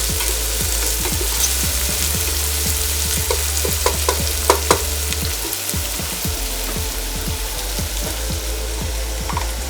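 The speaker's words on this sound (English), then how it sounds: "As you can see, the onions are starting to brown slowly." Onions fry and slowly brown in a pan for biryani, giving a loud, steady sizzle with frequent stirring scrapes and a few sharper clinks over a constant low hum, with no talking.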